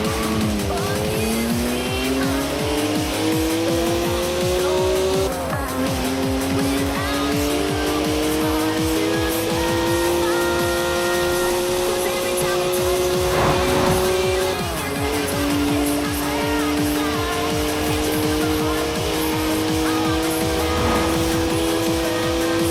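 A rear-wheel-drive BMW drifting in Forza Horizon 4, its tires squealing in long, loud, wavering howls over a steady engine roar, sustained almost throughout with brief breaks.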